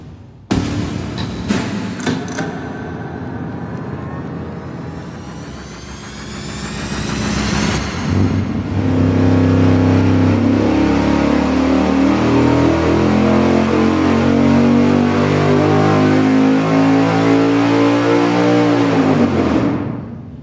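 Engine on a dyno making a baseline pull on a dynamometer, starting with rough, loud firing and revving, dipping briefly, then a sustained, very loud climbing roar that holds steadily before dropping off at the end.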